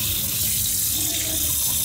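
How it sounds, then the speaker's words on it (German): Cold water pours steadily from a kitchen tap over freshly boiled eggs, a close, continuous rushing splash with no pauses or talk. "Mit kaltem Wasser abschrecken."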